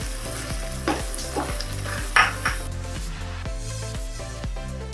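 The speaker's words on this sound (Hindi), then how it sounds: "अब इसमें हम बॉईल किए हुए मटर डाल देंगे।" Boiled peas tipped into sizzling spiced oil for a fresh turmeric sabzi, then stirred, giving a loud, close, steady fry hiss with rhythmic spoon scrapes against the pan and no talking.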